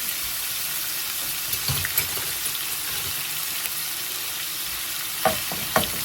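Bacon and ground meat frying in a single skillet, a constant loud sizzle with occasional scraping and stirring sounds near the end, close up and without speech.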